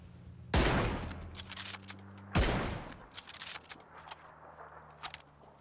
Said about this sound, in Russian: Это был хороший выстрел, кстати.